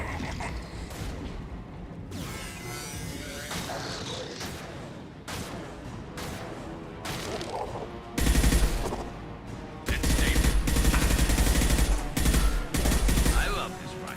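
Rifle gunfire in the video game Mass Effect: after a stretch of quieter combat sounds, loud rapid bursts of automatic fire break out and repeat in heavy volleys close up.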